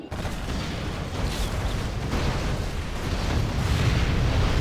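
A sustained, rumbling wall of explosions from an alpha strike in C&C Generals Zero Hour, loud and continuous, wrecking a group of buggies in a competitive match.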